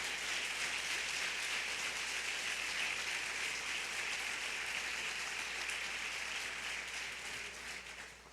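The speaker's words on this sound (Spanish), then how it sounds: "Dale fuerte ese aplauso y se lo va a dar al Señor." A church congregation at an Assemblies of God service applauds continuously, a fairly faint, even hiss of many hands that holds steady and tapers slightly at the end, with no talk over it.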